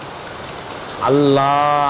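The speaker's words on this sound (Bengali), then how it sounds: "এই জায়গাতে গাইস কত বৃষ্টি হচ্ছে দেখেন গাইস" Heavy rain pours down in a steady, dense hiss that fills the whole stretch, and a voice briefly exclaims over it near the end.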